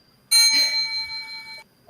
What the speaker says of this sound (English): we got bells